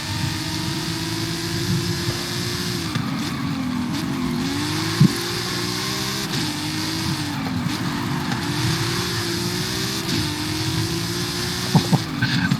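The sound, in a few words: race car driving laps in Gran Turismo video game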